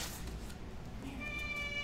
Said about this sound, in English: That is our cat.